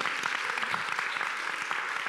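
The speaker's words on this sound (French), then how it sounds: "On peut applaudir ça, s'il vous plaît." A studio audience applauds at a Saturday television show, a steady, dense patter of many hands clapping that fills the room at moderate loudness, with no break.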